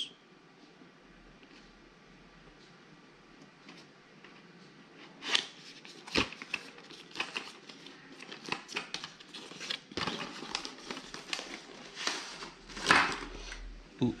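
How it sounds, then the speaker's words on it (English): Cardboard and plastic packaging of a Quad Lock motorcycle phone mount being opened, with faint rustling at first, then a run of sharp crinkles, tears and snaps of varying loudness, close by and without talk. "let's unbox this thing and see what's in the box"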